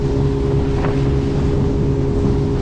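Steady, loud roar of a center console fishing boat's motor and hull running at speed, with strong wind buffeting the microphone throughout, no voices.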